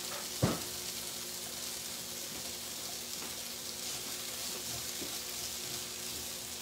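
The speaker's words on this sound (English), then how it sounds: "we're just going to move this around in the skillet a little bit more" Fiesta corn sizzles steadily in a skillet while being stirred, with one sharp knock near the start and soft scraping under a constant frying hiss. No one speaks.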